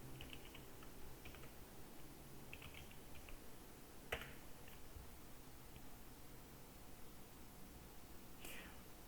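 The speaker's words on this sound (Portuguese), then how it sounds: "vou digitar a minha senha" A password typed on a computer keyboard, a few short clusters of soft key taps over a steady background hiss, faint and close.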